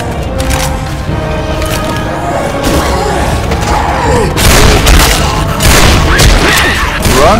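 Grenade blasts in a zombie shooter game give heavy booms and crashing bursts amid chaotic gunfire. Loud, dense noise builds toward a big explosion midway, and shouted voices mix in.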